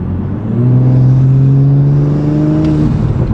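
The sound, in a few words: turbocharger spooling on Audi S5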